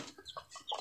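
Imported-breed chickens in a backyard home coop give a few soft, short clucks and murmurs, faint and close, with no talk.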